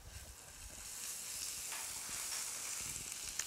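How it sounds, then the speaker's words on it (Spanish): Garlic sautéing in melted butter in a pan gives a steady, soft sizzle and frying hiss with faint stirring clicks, close but quiet, and no talking. "Ponemos la mantequilla en una olla o en una sartén a derretir. Salteamos el ajo."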